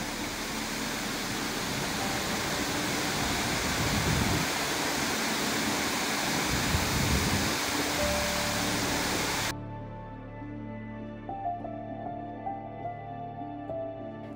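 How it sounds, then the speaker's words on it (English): Liffey Falls in Tasmania, a cascading waterfall stepping down multiple tiers, gives a steady, dense rush of falling water for most of the stretch before it cuts off abruptly and quiet background music follows. "This is a cascading waterfall, stepping itself down multiple tiers."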